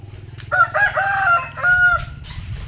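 A rooster crows loudly nearby, one long drawn-out call followed by a shorter second crow, over a low steady hum.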